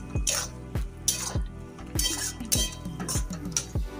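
A pan of bottle gourd cooking in milk with a little sugar is stirred, a spoon clinking and scraping against the metal in a steady series of sharp knocks, close and alone.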